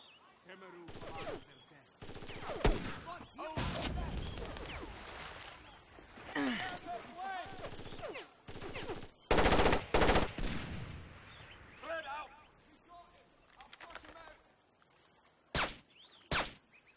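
A shootout in the video game Far Cry Instincts Predator, with bursts of automatic gunfire, scattered single shots and sharp impacts mixed with shouting game voices, sometimes dense and sometimes pausing.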